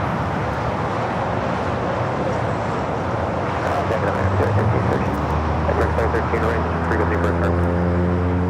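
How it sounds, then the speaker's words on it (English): An American Airlines Airbus A321neo takes off at Los Angeles airport, a broad jet roar swelling with rising engine tones toward the end, steady and fairly loud, with a voice talking over it. "This is American Airlines 3013 taking off to Philadelphia on the A321 NEO"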